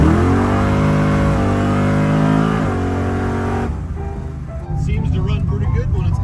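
A Buick T Type engine revs hard on a test drive, a loud sustained roar climbing in pitch, then dropping away into a rougher, lower drone as the throttle eases.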